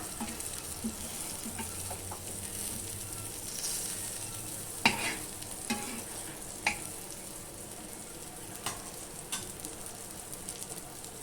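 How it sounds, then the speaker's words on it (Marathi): Bottle gourd slices sauté in a pan with a soft, continuous sizzle, punctuated by a few sharp clicks and scrapes of stirring, fairly quiet, no voices. "हे आहे दुधाचं काप परतून घेऊया"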